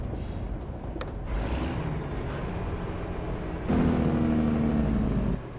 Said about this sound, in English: Nice bit of engine braking there.